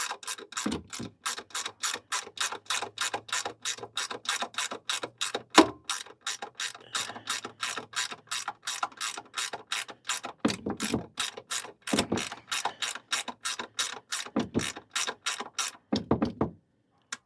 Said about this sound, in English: We'll get the wrench going the right way.